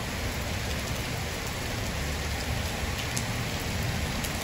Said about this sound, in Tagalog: So first time na umulan dito sa Doha ngayong taon, ganito kalakas guys.